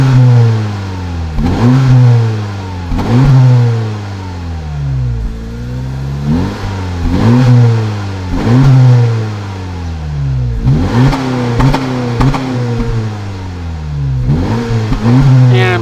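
A 2019 Honda Civic Sport Hatchback with a 174-horsepower turbo engine and a center dual exhaust revs repeatedly, each blip rising and falling in pitch, loud and close with short idle gaps between.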